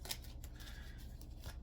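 Tarot cards being shuffled by hand: quick, soft papery riffling and flicking in a continuous rhythm, close and faint, with no talking.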